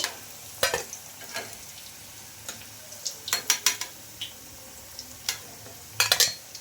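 A semolina snack shallow-fries in a little oil, a faint steady sizzle broken by scattered sharp clicks and scrapes of a utensil against the pan, close with no talking.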